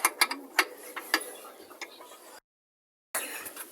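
The axle of an electric bicycle hub motor is turned by hand, producing a run of close, sharp ratcheting ticks and gear clicks that slow and fade, then a short silence and a resumed soft whir.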